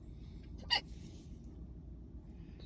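A single faint hiccup sounds once from a person in the back of a quiet room, brief and soft against low background hum.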